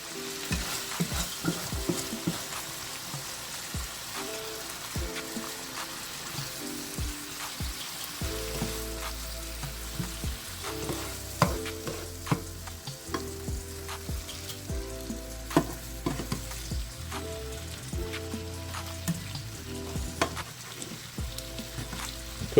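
Steaks frying in a pan with lime juice and Worcestershire sauce, giving a steady close sizzle with repeated scraping and stirring clatter throughout and no voices.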